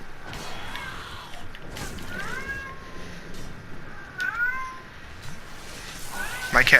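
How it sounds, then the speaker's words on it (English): A pet cat meows repeatedly in the background, several short rising-and-falling cries spread across the stretch and over a steady hiss of game sound, with a louder, sharper yowl at the very end. "My cat is deciding to be mouthy."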